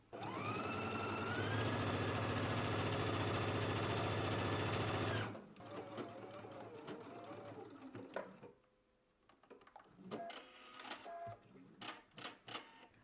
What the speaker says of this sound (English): Let's go ahead and do all the stitches now.